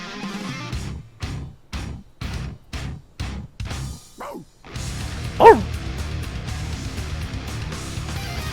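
A dog gives a run of short, evenly spaced barks up close, then a higher yelp, with a dense metal song playing loudly underneath.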